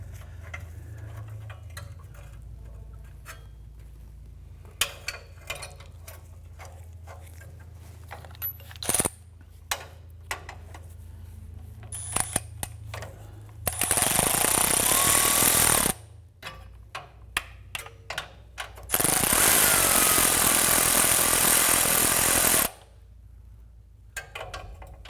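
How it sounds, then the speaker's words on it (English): Exhaust manifold flange bolts are tightened on a 1990s Ford Ranger: scattered metallic tool clicks and ratcheting, then two loud buzzing bursts of a power tool lasting a few seconds each. "I'm going to go back and forth, trying to evenly tighten the bolts into the"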